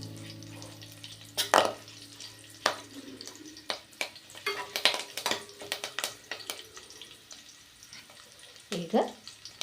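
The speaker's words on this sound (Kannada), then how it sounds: "ಸ್ವಲ್ಪ ಕರಿಬೇವು, ಈಗ ಇದು ಸ್ವಲ್ಪ ಫ್ರೈ ಮಾಡ್ಕೊಳ್ಳೋಣ." Curry leaves fry in a pan of hot oil, crackling in sharp scattered pops and a soft sizzle, with occasional stirring clatter close by.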